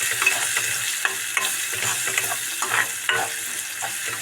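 Spice filling for Maharashtrian stuffed eggplant bharit, with homemade masala, being mixed in a pan: repeated scraping stir strokes at a quick, irregular rhythm over a soft, steady background sizzle, close and moderately loud, with no talking.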